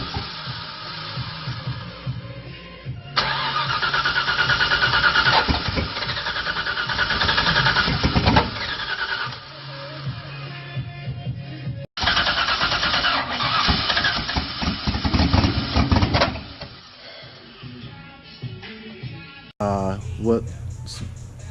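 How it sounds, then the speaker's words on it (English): Car engine cranking and struggling to start after fuel injector replacement, long runs of starter churning broken by pauses, with people talking over and between attempts. "I have some clips of us trying to start the car after I put everything back together."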